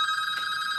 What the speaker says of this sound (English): We're gonna go ahead and answer this phone.